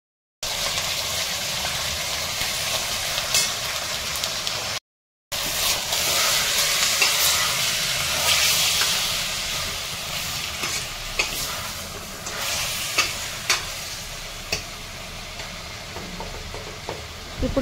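Chicken frying in a pan while being stirred with turmeric, a continuous sizzle and hiss with scraping stir noises, briefly cut off near the start.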